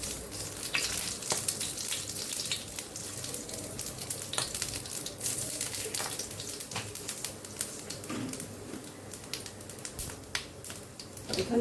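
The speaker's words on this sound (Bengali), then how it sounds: "ফোড়নে দিয়ে দিচ্ছি 5 ফোড়ন" Panch phoron five-spice seeds crackle in hot oil for a vegetarian mixed-vegetable curry, making a steady frying sizzle dotted with quick, sharp pops that go on throughout, with no talk.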